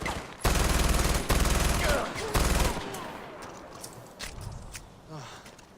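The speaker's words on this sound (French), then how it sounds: "il reste quelqu'un qui me tire dessus" Gunfire in the shooter game Far Cry 4: three loud, close bursts of automatic fire in quick succession, followed by fainter scattered shots and rustling movement.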